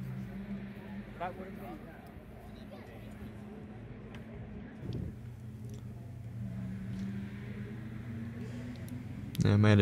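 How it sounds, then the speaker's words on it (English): Old touring cars circle a racetrack at the Adelaide 500 street circuit, engines droning steadily at a distance with a louder pass near the end, while people talk over the rumble. "There's lots of great old cars driving around in there."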